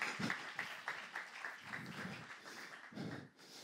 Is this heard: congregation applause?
yes